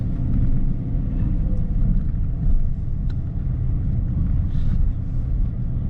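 A car drives slowly along the back streets of Tombstone, Arizona, one block off the main drag, its low engine and road rumble steady and close with light wind buffeting.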